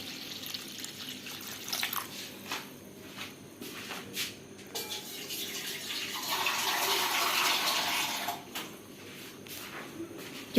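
Quiet handling clinks, then about two cups of water pour steadily into a cooking pot for rasam for a few seconds, close and clear.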